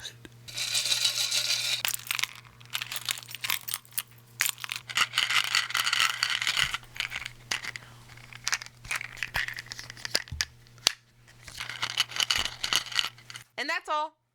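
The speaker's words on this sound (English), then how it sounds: "That's a charm bracelet." A charm bracelet is handled close up for ASMR, giving dense metallic jingling, clinking and crinkly rustling in bursts across the stretch, with a low steady hum beneath.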